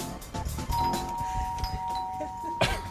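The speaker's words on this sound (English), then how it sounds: "Your doorbell works." Doorbell chiming inside a house, a clear two-tone ring with a sustained tone, heard close with some background movement and faint voices.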